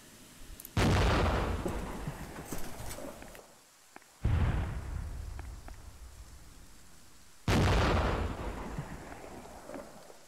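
Recoilless rifle fire in a video game battle at Dien Bien Phu, three heavy booming blasts spaced a few seconds apart, each decaying into a long rumbling tail.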